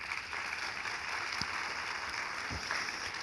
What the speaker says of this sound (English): Please, a round of applause for Susan.